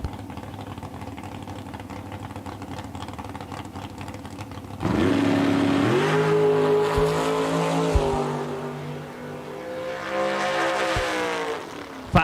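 A drag racing car launches at Eddyville Raceway Park, its engine jumping from a low idle into a loud, rising roar with sharp gear changes and clattering bursts, then fading slightly before surging again; no talk is heard.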